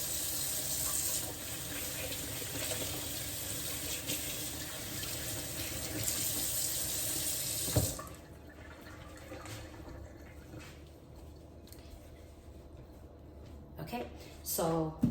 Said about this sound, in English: So I'm just gonna wash my hands.